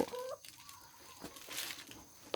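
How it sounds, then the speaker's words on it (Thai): Chickens come in to eat scattered feed during a morning feeding, with faint, brief clucks and light pecking sounds over a quiet background. "ไก่เขาเข้ามากินด้วยอีกแล้ว"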